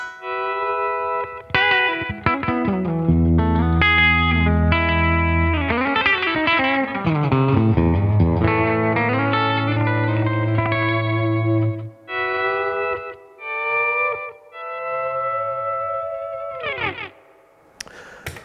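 An electric guitar with tape echo plays country-style lines, ringing notes and bends that repeat and trail off in echoes over a steady low sustained note, loud and continuous with short pauses near the end.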